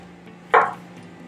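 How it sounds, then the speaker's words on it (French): A knife cuts through a banana on a board in one short, sharp chop against a quiet room hum. "Et vous coupez votre banane en fines rondelles."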